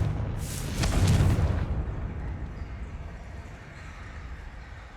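A Confringo fire spell from the video game Hogwarts Legacy goes off in one loud, close blast near the start, then fades into a long, low rumble.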